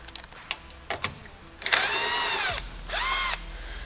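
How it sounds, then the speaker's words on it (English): A power drill spins out 7mm screws from a C8 Corvette rear panel, two whirring bursts of a couple of seconds each after a few light taps, close and loud. "we're gonna start by removing these 10 7mm screws around the outside of this one panel here."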